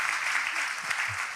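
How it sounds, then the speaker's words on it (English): Brief burst of continuous crowd clapping at a school freshers' orientation in Ghana, dense and even, with a faint voice low underneath. "Clap for him."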